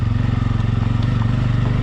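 A Bajaj Pulsar N250 motorcycle climbs uphill over loose gravel, its engine giving a loud, close, steady low throb with a rapid pulsing rhythm.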